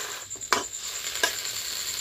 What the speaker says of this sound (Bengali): ভালোভাবে নেড়ে চেড়ে সব মশলা দিয়ে মাখিয়ে রাখা ছোট মাছগুলো দিয়ে দিচ্ছি।